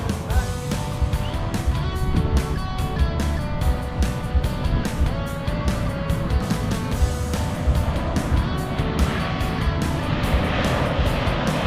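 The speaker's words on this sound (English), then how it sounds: "I forget how big these aeroplanes are, you know" A large floatplane with its floats fitted flies overhead at a STOL competition, its engine a loud, steady drone with a harmonic whine, sustained and close throughout with no talk.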